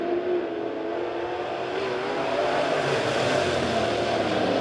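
A pack of USRA A-Modified race cars roaring away at the green flag at Springfield Raceway, a dense, loud, sustained engine drone that builds slightly as they accelerate.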